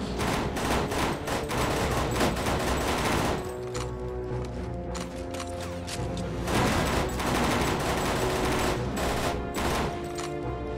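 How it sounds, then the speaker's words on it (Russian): Machine gun fire in the video game NecroVisioN rattles in long, dense bursts with a short lull in the middle, loud and close throughout. "Пришел с пулеметом."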